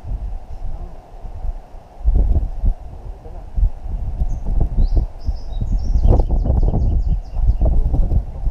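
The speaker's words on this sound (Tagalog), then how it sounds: "Malakas may hangin oh." Strong wind blows outdoors beside a fishpond, producing steady rumbling gusts of microphone buffeting with some rustling, loud and continuous, with faint bird chirps in the background.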